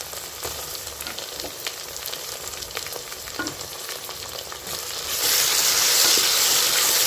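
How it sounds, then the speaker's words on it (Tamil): Onions and tomatoes sizzle steadily in a hot pan for a home-cooked chicken lunch, a continuous close frying hiss with light stirring clicks that grows louder and denser toward the end, no talk. "சேர்த்து நல்லா வதக்கிக்கலாம் தக்காளியை"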